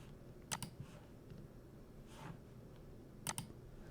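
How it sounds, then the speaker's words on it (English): A few faint mouse clicks at a computer, two crisp double clicks about three seconds apart, close but quiet over a low steady room hiss. "I'll just click the save button here."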